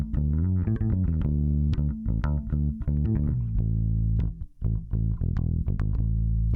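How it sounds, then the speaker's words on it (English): A bass line runs through a Urei LA4 analog compressor, giving loud, dense, sustained notes with some gritty, distorted edges. A faint background noise hangs beneath it, and no one talks during the passage. "Let's see what this Urei will do to the bass."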